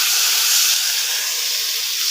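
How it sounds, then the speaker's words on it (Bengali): Water poured into a pan of sizzling fish masala sets off a steady, loud hiss of steam that holds evenly throughout with no voices. "এখন অল্প করে জলটাকে দিয়ে দেবো"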